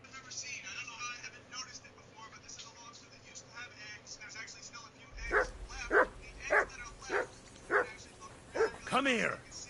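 Dog barking in the video game Kingdom Come: Deliverance II, a series of about seven loud, evenly spaced barks close by after a quieter stretch of game ambience and background noise.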